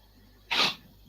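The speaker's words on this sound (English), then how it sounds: "It's sneezing now." A single short sneeze bursts out over a quiet background, lasting only a moment before the room settles back to near silence.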